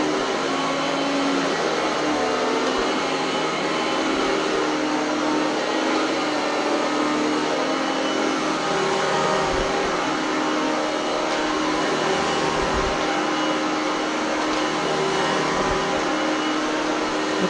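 An Oreck Elevate Conquer upright vacuum cleaner runs continuously with a loud steady motor whine and airflow hiss, with occasional thumps as it is pushed across the floor.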